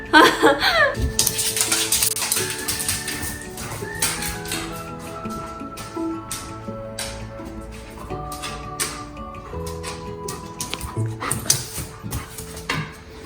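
A large German Shepherd whimpers and yips at its food bowl while eating, its whines running throughout alongside steady background music.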